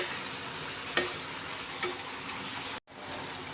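Pepper chicken cooks in a frying pan with a continuous sizzle, a couple of sharp utensil knocks and scrapes as it is stirred, then a sudden brief drop to silence before the frying resumes.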